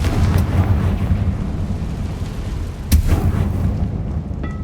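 Confringo fire spell in Hogwarts Legacy, heard as a sharp blast about three seconds in that cuts through a continuous low rumbling battle din, with faint crackles and pops around it.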